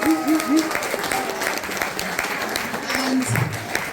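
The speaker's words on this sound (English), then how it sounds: "perhaps one last clap for everyone on stage." Audience at a stage show clapping for everyone on stage, sustained applause with voices over it.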